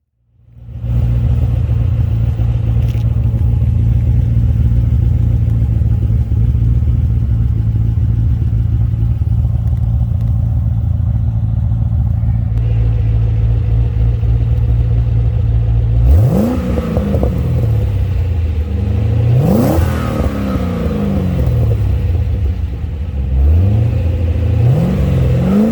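A 2007 Cadillac CTS-V's LS engine, running a stock resonator and MagnaFlow V1 mufflers, idles loud and steady at close range, then barks through several sharp revs that rise and fall.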